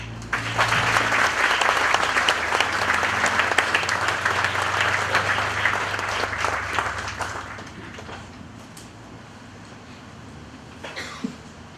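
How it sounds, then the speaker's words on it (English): An audience at a groundbreaking ceremony for a technology and innovation center applauds steadily for about eight seconds, loud and dense, then tapers to scattered claps with a cough or two. "please give yourselves a round of applause for choosing to support your community and be with us here today"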